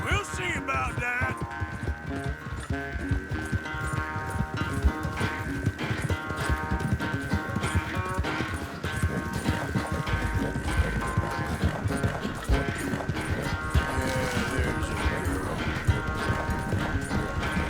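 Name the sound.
horse galloping while riding in Red Dead Redemption 2 video game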